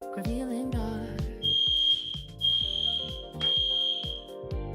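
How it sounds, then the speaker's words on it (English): A fire alarm sounds in three loud, piercing, high-pitched beeps of equal length with short gaps between, heard indoors over background music with plucked notes. "that is a very real fire alarm"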